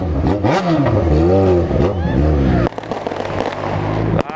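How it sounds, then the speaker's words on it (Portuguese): An engine revs up and down close by, then a run of rapid crackling pops from a firework rocket bursts over the rumble. "o cara solta até rojão, doido"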